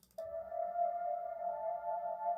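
A sustained Rhodes electric piano tone through a synthesizer reverb effect rings out with a smooth reverb tail, steady and moderately loud, no voices present.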